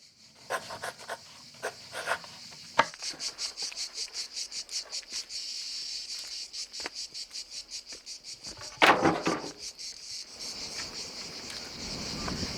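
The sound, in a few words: cicadas singing on Filicudi island, Sicily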